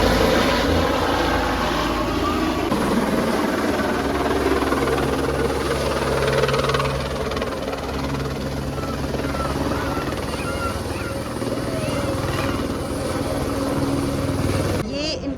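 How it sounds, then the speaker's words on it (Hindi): A helicopter at a mountain helipad idles and spools up, a loud steady rotor and engine roar throughout, with people talking over it. "दूसरा हेलीकॉप्टर रेडी हो रहा है फ्लाई करने के लिए"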